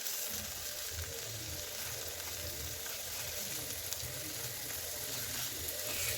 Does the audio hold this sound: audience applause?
no